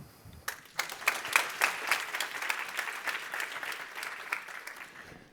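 A full room of conference attendees in the PSV Stadium claps for a speaker, a burst of applause that swells quickly, holds steady for several seconds and then thins out.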